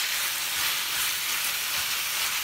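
Venison and elk meat browning in a pan with bacon, a steady bright hiss of sizzling fat that runs continuously without pause.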